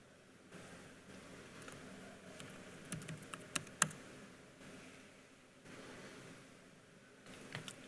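Keystrokes patter on a computer keyboard during a live technical demo, quick irregular clicks in short bursts with brief gaps, fairly close but soft, and no talking.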